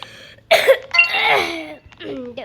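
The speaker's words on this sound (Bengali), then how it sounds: "দেখছো মানে বলতে না বলতেই কাশি আসিয়া পরে আমার" A person with a cold gives a couple of sharp, throaty coughs up close, with harsh bursts followed by a rasping tail, and speech continues around them.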